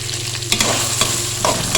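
Peas fry in a pan with a loud, steady sizzle, punctuated by several sharp stirring scrapes and knocks close by.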